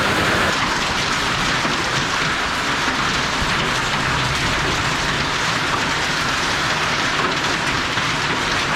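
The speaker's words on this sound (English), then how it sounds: "So hail is falling right now, guys." Dense, constant pelting of hail hitting surfaces during a hailstorm in Australia, a loud unbroken rattling wash with no voices.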